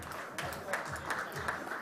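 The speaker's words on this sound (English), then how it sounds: "With a big round of applause." An audience in the main hall of a livestreamed conference gives a short burst of scattered clapping while a voice carries on over it.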